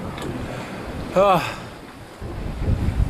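Wind and sea wash around a racing sailboat in a round-the-world solo race, a steady blustery rush broken by a brief vocal exclamation near the middle.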